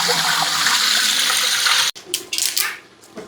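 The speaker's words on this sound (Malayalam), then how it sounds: "3 പാട്ട് വെള്ളം ഒഴിച്ചാൽ" Water pours steadily from a jug into a large pot for three kilograms of chicken biryani cooked on a gas stove, a loud gushing stream that stops abruptly, followed by a few splashes and drips.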